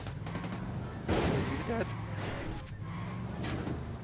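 Gunfire from Ghost Recon rattles in a dense burst around the middle of the clip, partly buried under continuous talking and background game noise.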